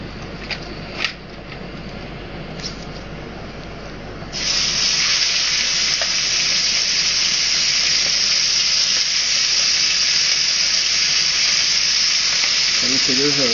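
Meat searing in a very hot, smoking frying pan, a loud, steady sizzle that bursts in suddenly after a few quieter seconds and then hisses on without pause.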